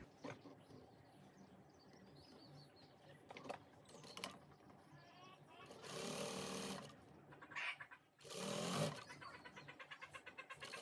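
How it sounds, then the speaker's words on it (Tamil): A sewing machine stitches folded piping onto a double-colour gown in two loud bursts of a couple of seconds each, separated by quieter handling noises and brief pauses. "இந்த பைப்பிங்கை வந்து நாங்கள் தச்சு எடுத்துகிட்டு இதை வந்து நாங்கள் மடித்து தைப்போம்"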